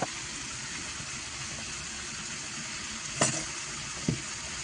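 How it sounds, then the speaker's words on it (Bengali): Potatoes fry in oil in a wok, giving a steady soft sizzle with two brief clatters from a utensil partway through, close and moderately loud. "আলুটা আমি লাল লাল করে ভেজে নেব।"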